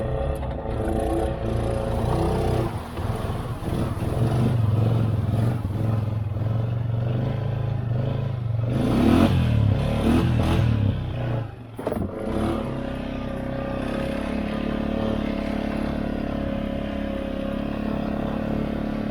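Honda Foreman Rancher ATV idling while sitting in water, a steady, loud, close engine drone with a brief dip and sputter midway before settling back into a continuous rumble.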